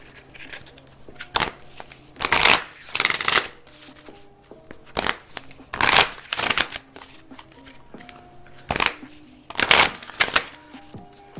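Tarot and oracle cards are shuffled in several quick riffled bursts, crisp and close, separated by short pauses with faint background hum and no talking.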